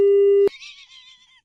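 Phone line tone after a prank call is hung up: a loud steady beep ends abruptly, then a faint warbling electronic tone trails off, with no voices.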